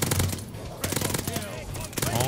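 A Type 100 submachine gun fires in the video game Call of Duty: Vanguard, with loud, rapid automatic bursts broken by short pauses. Dense clatter and game effects fill the gaps.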